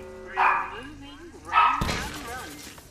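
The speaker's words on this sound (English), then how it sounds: "now that my dog's done barking" A dog gives two short barks, a second apart, with a person talking in between and a sudden clatter right after.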